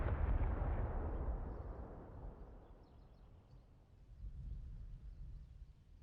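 A tank shell strikes the turret of a Tiger tank in the IL2 Tank Crew combat game, a heavy booming impact whose low rumble decays over a few seconds, then a second, softer rumble swells near the end.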